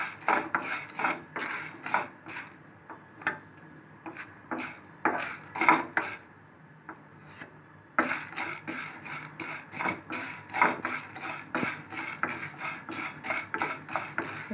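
Urad dal dry roasting in a pan without oil, with steady scraping and clinking of a spatula as it is stirred, soft rhythmic scrapes close by with a brief lull midway.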